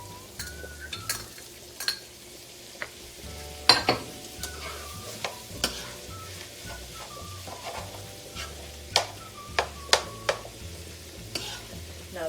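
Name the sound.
tomatoes added and stirred into sizzling pasta sauce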